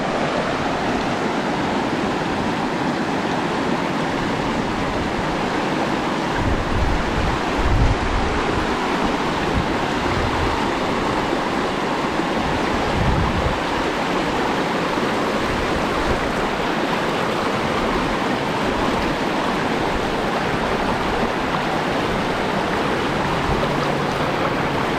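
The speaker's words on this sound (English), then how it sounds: "that's Susan Creek Falls" Susan Creek Falls waterfall roaring steadily throughout, a dense constant rush of water, loud and close, with no voices.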